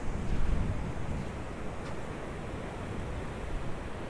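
Steady rushing wind by the sea, with surf noise blended in, blows continuously and loudly against an outdoor camera setup, a little stronger at the start and then holding even throughout, with no voices.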